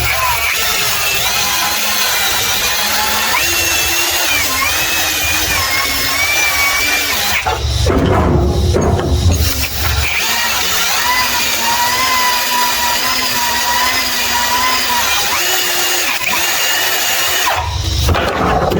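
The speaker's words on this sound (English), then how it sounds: "I'll get the drill in there and give that a bit of a clean." A power drill whirs steadily at varying speed cleaning a rear brake part on a G60 Nissan Patrol, pausing briefly midway before spinning up again, close and loud.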